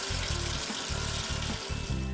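Tap water running steadily into a kitchen sink as it fills, a continuous close hiss with a faint pulsing low rumble underneath, no voices.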